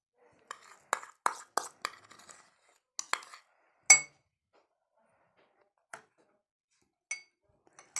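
Chia seeds and cornflakes drop into a glass, making a run of light, crisp clinks and rattling taps in quick clusters, then a few sparse, isolated ticks. The sounds are close and fairly quiet, with no talking.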